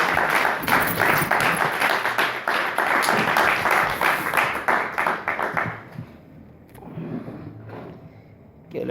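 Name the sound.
congregation applauding loudly for the Lord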